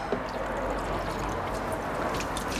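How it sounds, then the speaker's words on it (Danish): Water splashes and gushes steadily in a continuous, noisy pour for a couple of seconds, fairly close. "Og når vi så lukker vandet ud af den her beholder."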